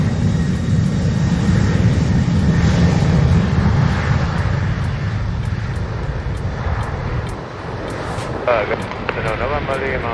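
Airliner on approach to runway 07 at Montego Bay, its engines a steady broad roar filling the whole stretch, with radio chatter and a rhythmic ticking over it.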